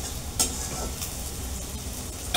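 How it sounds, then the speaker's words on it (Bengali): Potato greens hitting a hot pan with cumin seeds and mung dal gives a steady close sizzle, broken by a couple of brief utensil clinks, with no speech. "আমি শাকগুলো ছেড়ে দিলাম।"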